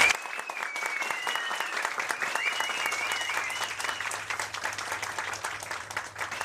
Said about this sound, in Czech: Pozbuďme je potleskem.